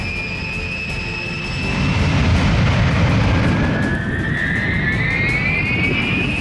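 Aircraft passing at the Wonsan air show in North Korea, such as a Mil-17 helicopter, Ilyushin 76 or An-24, a steady loud engine roar that swells midway with a rising whine, continuous with no talk.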